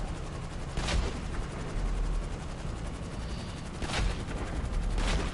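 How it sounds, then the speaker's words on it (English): A long-range turret cannon in GTA 5 fires three heavy booming blasts, far apart, over a steady loud roar of engine and ambient rumble, with no talking. "this is the farthest shooting cannon, like a turret cannon I've ever fired"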